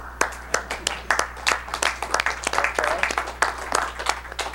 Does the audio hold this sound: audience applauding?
yes